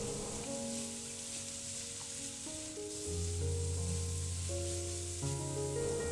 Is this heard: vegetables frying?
yes